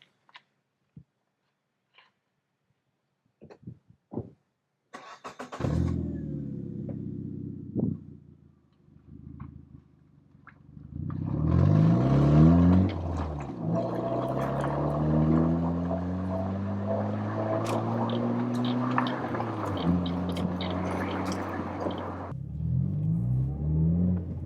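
A Fiat Panda Alessi starts with a few clicks, then its small engine idles and revs repeatedly, rising and falling sweeps climbing to a loud, rorty sustained roar before dropping back, heard close and alone.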